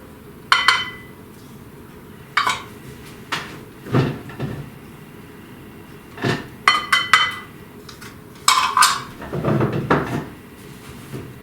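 Mixing bowl lifted out and set down during home cookie baking, with a series of separate ceramic clinks and clatters of dishes in a quiet kitchen, several sharp knocks spaced a few seconds apart.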